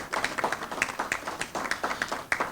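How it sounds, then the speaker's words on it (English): Audience applause at a cannabis symposium, a steady run of many hands clapping with sharp irregular claps, moderately loud, lasting about two and a half seconds with no talking over it. "Give ourselves a round of applause."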